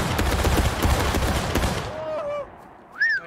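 Dense volley of gunfire and cannon blasts in the Civil War video game War of Rights, loud and rolling, fading into a distant rumble with shouted voices over it.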